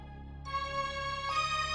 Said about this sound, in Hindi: तभी पापा का फोन आ गया।